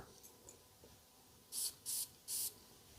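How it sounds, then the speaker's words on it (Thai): Three quick, evenly spaced hissing sprays of Repetto Eau Florale perfume burst from the bottle's spray nozzle, close and crisp after a quiet stretch. "หัวสเปรย์ก็ถือว่าดีนะครับ นุ่มนวลเลย"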